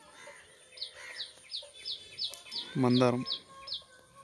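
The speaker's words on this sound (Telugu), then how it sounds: "ఇక్కడ పక్షుల శబ్దాలు చూడండి." Birds in a home backyard garden with mango trees, giving a run of about ten quick, regular high chirps, close and clear, with a short louder call partway through and a brief spoken word.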